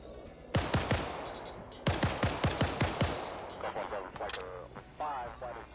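12.7mm machine gun fire on a perimeter in a video game, bursts of rapid rounds, moderately loud, in two quick strings followed by scattered shots, with a voice talking underneath.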